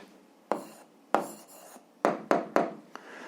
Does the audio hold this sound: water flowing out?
no